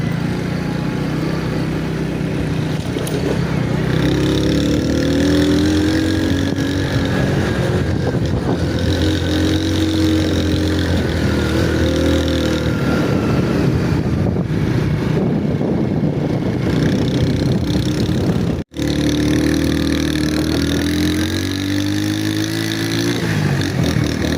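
A motorcycle ridden along a dangerous mountain road in Kashmir, its engine droning steadily and loudly for the whole stretch, broken only by a brief dropout near the end, with wind and road noise mixed in.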